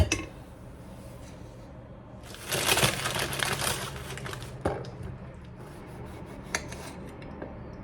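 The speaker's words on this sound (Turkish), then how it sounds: "şöyle azıcık biber kesiyorum" Pepper being cut with a knife in a home kitchen: a burst of crunchy slicing and rasping runs for about two seconds, followed by a few isolated knife taps and clicks against a quiet background.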